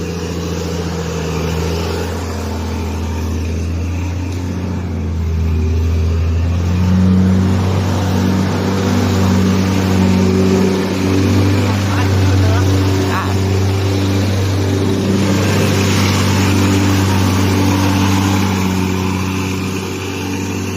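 Heavy Hino 700 series and Scania 410 diesel trucks rev and pull away in a race, a deep steady engine drone that swells in the middle and holds loud and close, with voices talking over it.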